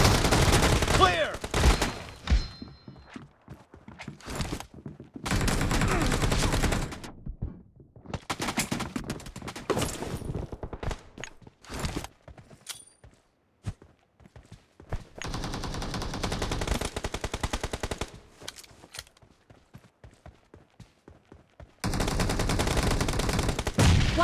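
An M1014 shotgun fires in a video game match, loud repeated bursts of gunfire in dense clusters separated by quiet gaps, with game noise between shots.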